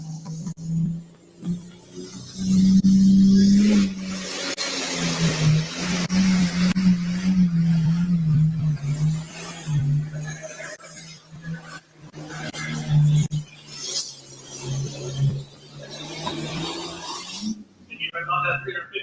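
A Super Farm class John Deere pulling tractor, Twisted Decision, making its run at a county fair tractor pull, its engine roaring loud and sustained with rising and falling pitch while an announcer talks over it.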